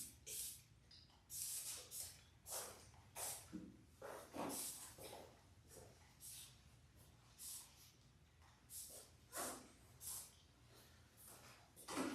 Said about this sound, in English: Go ahead and just spray this all over his whole body